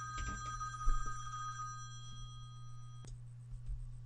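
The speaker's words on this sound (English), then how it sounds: "Excuse my phone ringing." A telephone rings with a steady electronic ringtone that carries on for a few seconds, fairly quiet against a low background hum in an indoor room.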